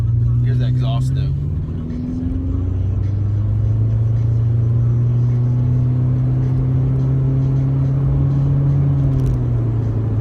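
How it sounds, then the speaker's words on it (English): A Subaru Impreza 2.0, the non-STI model, holds a steady, loud low exhaust drone with a slight rise and fall in pitch across the whole stretch, close to the microphone. "here's the exhaust note"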